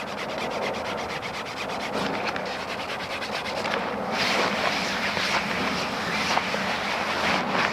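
Slippery top fabric of a Klymit Static V ultralight sleeping pad is rubbed by hand, giving a continuous close, loud swishing rub with rapid repeated strokes and no talking.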